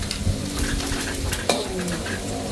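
Garlic fries with a steady, loud sizzle in a pan, stirred with occasional utensil scrapes and a sharp clink partway through.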